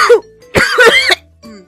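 A few harsh coughs close to the microphone, in two short bursts separated by a pause, with a faint trailing noise at the end.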